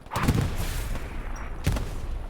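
Two loud, booming shots ring out from anti-tank cannons in a World War I video game, spaced about a second and a half apart, each followed by a rumbling decay.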